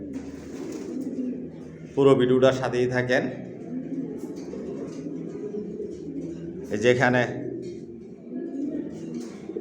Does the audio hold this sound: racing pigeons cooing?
yes